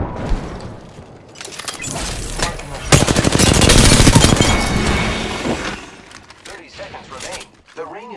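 Enemy gunfire in the Apex Legends shooter game: loud, close, sustained bursts of rapid automatic fire with sharp cracks, peaking in the middle and then tapering off into scattered shots.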